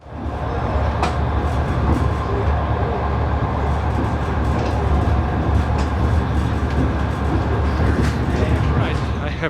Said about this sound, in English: I have got off the train at a random station in steppe